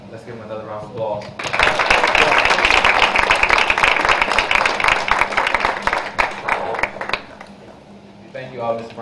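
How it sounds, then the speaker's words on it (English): A crowd at a youth activists' panel applauds in a loud, dense burst lasting several seconds, with a speaker's voice briefly before and after the clapping. "Let's give him another round of applause."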